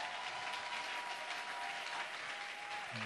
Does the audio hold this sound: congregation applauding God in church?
yes